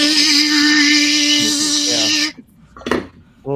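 An old Quantum hard drive from 1990 with an Apple label whines and scratches steadily at close range for a couple of seconds, then cuts out to a brief rattle and another burst.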